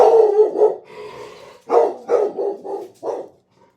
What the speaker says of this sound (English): It's the dogs barking next door